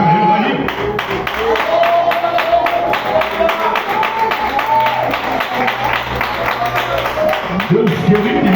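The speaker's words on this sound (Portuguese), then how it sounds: "Pode assentar e aplaudir com as suas palmas mais fortes que merece" A church congregation claps and applauds at a family service, a dense steady patter of hands filling the room for several seconds, with voices and some music audible beneath it.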